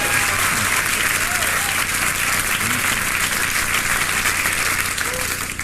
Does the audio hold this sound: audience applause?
yes